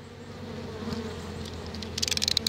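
Honeybees at a hive run by a laying worker buzz in a steady, dense drone that sits close and continuous, with a sharper flurry of nearby wingbeats rising toward the end.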